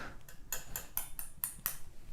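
A metal part of a Spark 1/1-scale model of the Alpine A521 Formula 1 car is tapped, producing about six quiet, bright clinks in an even rhythm, close by with no talking.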